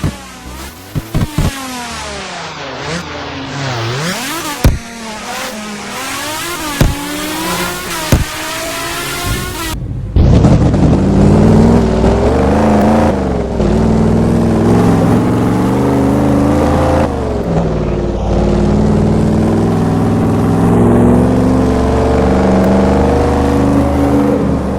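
A car engine in the Roblox game Midnight Chasers revs hard through rising and falling pitch sweeps with sharp shift pops, then settles into a loud, steady high-rpm roar, close and alone.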